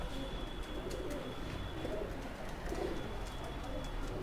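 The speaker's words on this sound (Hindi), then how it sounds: "ये पिलखा कबूतर है" A pilkha pigeon coos softly at close range, with low rumbling calls over a steady background hum of other birds and ambient noise.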